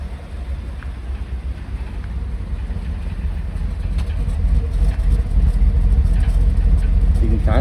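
A GMC Sierra truck on its factory exhaust idles nearby in a shop, giving a steady low rumble that grows slightly louder partway through.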